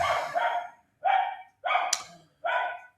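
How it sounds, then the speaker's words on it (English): A dog barks four times in a fairly even rhythm, each bark short and sharp and up close, with silence between them and no talking. "sorry about the dog noise"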